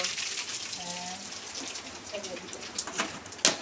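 Water is poured into a pot to brew Chhattisgarhi black tea, giving a soft, faint splashing gush that runs steadily while people talk nearby.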